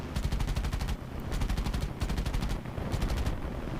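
Quad machine guns firing in War Thunder Mobile, loud continuous rapid bursts in three long volleys with brief pauses between, no talking.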